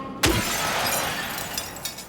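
Objects smashed in the Silent Hill 2 Remake video game: a single sharp, loud glass-like shatter that bursts at once, then a bright crackling decay trailing on for about two seconds, with no voices.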